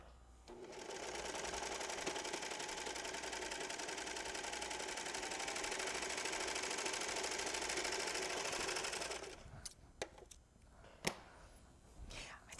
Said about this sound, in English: take my fabric, make any adjustments I want to, and let's make it sew.